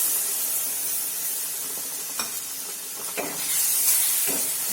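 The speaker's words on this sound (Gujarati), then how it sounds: "દૂધને આપણે આ રીતે લોટ સાથે મિક્સ કરી લઈશું અને જ્યાં સુધી આપણું બધું દૂધ બળી ન જાય ત્યાં સુધી તેને મિક્સ કરીશું" Milk sizzling and hissing as it is stirred into ghee-roasted gram flour for mohanthal sweet, a steady broadband steamy hiss with a few soft scraping strokes, close and fairly loud throughout.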